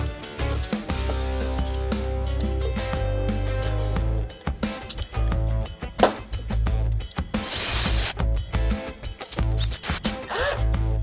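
Grinding, whirring drilling into wood and metal in repeated bursts with brief stops, loud and close, drilling out a broken head stud on a mini mill.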